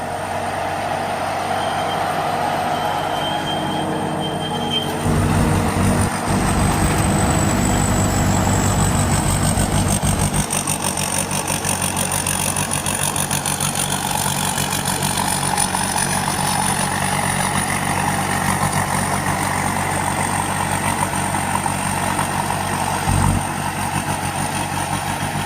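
A combine harvester engine runs continuously, droning and rumbling at a steady pace, with a brief louder surge of low rumble partway through.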